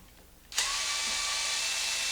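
A power driver backs out small 2.5 millimeter screws from the motor cover of an XMAXX, kicking in abruptly and then holding a steady, loud whirring buzz.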